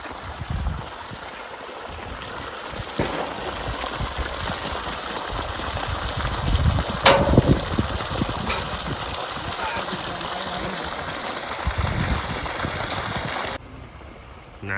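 Water from a 750W pump starting to flow through a 2-inch pipe toward a tank, a steady close rushing and splashing with machine hum that runs for the whole stretch before dropping off near the end.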